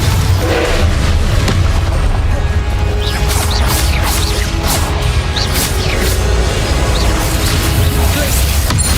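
Loud Confringo spell explosions boom and crash repeatedly in Hogwarts Legacy, with whooshing bursts layered over a constant heavy rumble of battle.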